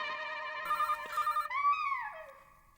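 An electronic telephone ringtone plays in a household TV comedy scene, a repeating melodic tone that rises into a sweeping chime and then fades, with no one speaking over it.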